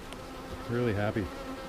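Honeybees buzz steadily close by around a hive in summer, a dense insect drone that swells briefly louder in the middle with a wavering pitch.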